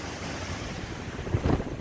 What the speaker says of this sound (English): we're getting at least 100 and 110 mile an hour gusts